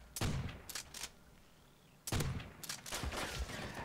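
Heavy shotgun blasts in Call of Duty: World at War hardcore multiplayer boom in loud bursts, several shots clustered with short pauses, over a constant background of game noise.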